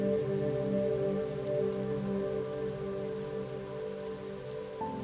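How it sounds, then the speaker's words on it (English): Steady rain patters on a surface, with dense, even drops and a constant tonal drone underneath, and no voices. "Feel the raindrops"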